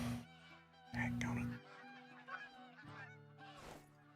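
Geese in a hunting video game honk in loose bursts, several nasal overlapping calls rising and falling at moderate distance, with faint background noise between them.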